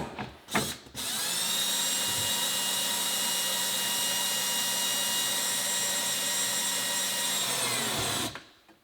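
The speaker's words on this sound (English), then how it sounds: "I had to come and basically drill through here as well." A power drill runs steadily at high speed for several seconds while drilling through a cabinet, preceded by a couple of brief bursts, then winds down to stop.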